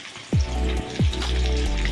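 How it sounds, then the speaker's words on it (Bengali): Chicken wings frying in hot oil, a loud close sizzle that bursts up twice as pieces drop in, then holds as a steady crackling hiss. "এবার আমি বাদবাকিগুলো এইভাবে ভেজে নেব।"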